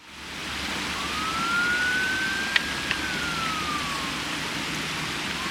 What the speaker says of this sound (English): Well, the siren kind of makes it less of an ambiance.